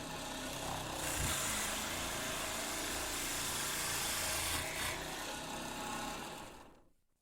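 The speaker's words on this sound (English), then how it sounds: "Similarly, I shall cut another hole in the second strip." A power tool bores a hole through a strip while making a dowel maker, a loud continuous whirring drone that holds steady for several seconds before winding down and stopping.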